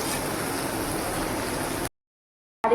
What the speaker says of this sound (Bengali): বাবারে তেল ছিটকাচ্ছে